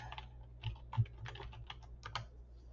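Keys clatter on a computer keyboard as a search term is entered in the Canva design app: a short, uneven run of close, crisp keystroke clicks, with no speech.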